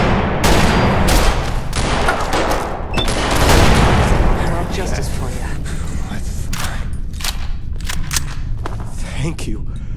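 Bursts of rapid gunfire in the video game Fallout crackle early on, then trail off into scattered shots and echoes while voices talk.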